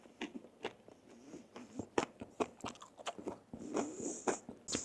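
Close, crisp crunching of food being bitten and chewed, a rapid run of sharp crackly bites over several seconds.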